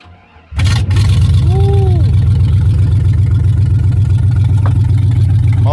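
A 2000 Chevy Silverado 1500 with a 4.8 V8 and open headers cold-starts with a brief crank, then settles into a loud, close, rumbling idle with a steady choppy pulse that runs to the end.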